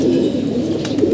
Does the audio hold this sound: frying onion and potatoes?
no